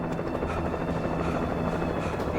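A helicopter in the video game Alan Wake drones with a steady, loud rotor thump and engine whine, continuous and close, with no talking over it.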